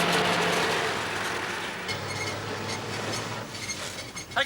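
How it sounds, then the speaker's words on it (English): An approaching train on a railway line rumbles steadily, a broad, loud roar with a low drone that persists throughout, with a few clinks near the end. "I can hear the train coming."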